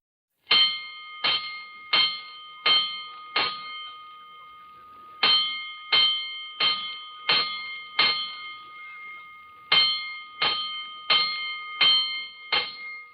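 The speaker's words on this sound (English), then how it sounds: "Five bells." Fire alarm bells from a 1949 radio drama strike five times, then five more, then five again: crisp, loud metallic clangs in three evenly paced groups with ringing decay between strokes, no voices.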